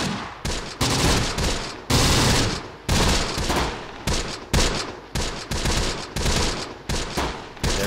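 Machine gun fire in Close Combat: The Bloody First, with loud, rapid bursts from several guns overlapping in quick repeated volleys, separated by short gaps, across the whole stretch.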